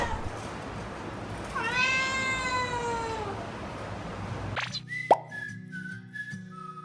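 A cat gives a drawn-out meow with a rising then falling whistle-like pitch over steady background noise, followed by a sharp plop and a few faint tonal sounds.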